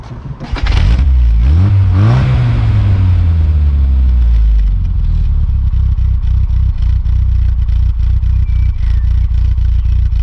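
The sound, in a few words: classic Mini car engine starting and idling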